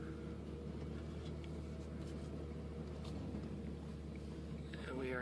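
A V8-swapped, front-engine Hyundai Genesis sedan cruising gently in first gear, with a steady low engine drone and road rumble throughout, and a voice speaking faintly over it.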